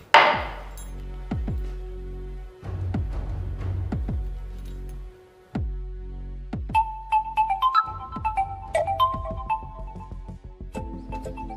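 A mobile phone ringtone plays in a home, a rhythmic electronic pattern of repeated thumping beats with a melodic line joining later, loud and continuous.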